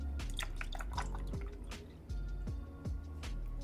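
Almond coconut milk is poured into a blender in a soft, steady liquid stream with gurgles and drips, quiet and close, no talking.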